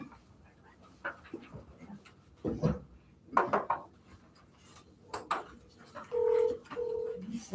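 Speakerphone dialing at a county commission meeting gives a few short electronic tones near the end, preceded by scattered clicks and handling knocks in a quiet room.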